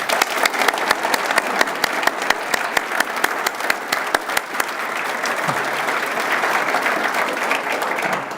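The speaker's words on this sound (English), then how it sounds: "let's give them all a round of applause." Audience applause at a State of the City address, with sharp individual claps standing out early before blending into a dense, steady ovation, close and fairly loud.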